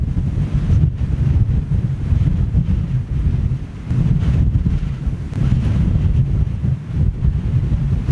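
Blustery wind buffets the microphone at Toulouse airport, a loud, continuous low roar with gusting surges and brief lulls throughout, with no voices.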